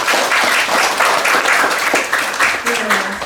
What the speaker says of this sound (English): let's give another warm round of applause for Professor Oittinen.